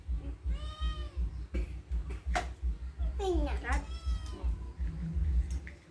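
A cat meows several times, drawn-out and plaintive, close by, while a person talks quietly in between the calls.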